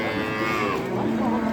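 A two-tooth bull at a rain-soaked cattle market gives one long, loud, close moo that carries through the whole moment, with no voices over it.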